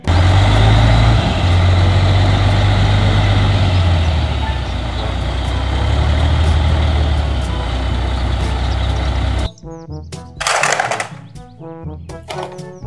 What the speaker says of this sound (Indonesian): Mobil truk pasir.